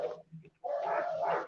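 A dog gives a couple of short, faint barks with a brief gap between them, heard alone with no talking.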